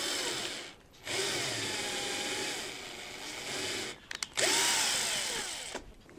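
A 2 mm thread tap, apparently power-driven, cuts into solid material while fitting a servo in a model glider fuselage. It gives a steady whirring grind that stops briefly twice, near and loud, with no talking.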